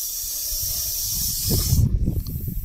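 A steady, breathy hiss of a Russell's viper runs for almost two seconds, then gives way to low rustling and handling noises up close.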